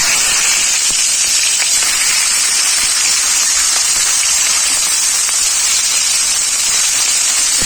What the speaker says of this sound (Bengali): মাছের মাথাগুলো দিয়ে দেবো তেলেতে।